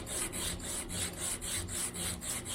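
Sandpaper fixed to an aluminium profile rubs back and forth across acoustic guitar wood, a steady rhythmic rasping of roughly ten even strokes, close and fairly quiet with no voices.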